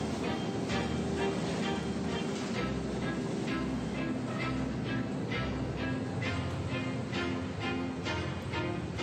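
An Amsterdam metro subway train rumbles steadily through a station, a continuous loud mechanical roar with rhythmic clacks and a low drone throughout.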